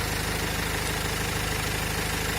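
Renault Master van engine idling at close range, a steady low diesel-like rumble with an even pulsing rhythm and slight knock, running alone with no talk.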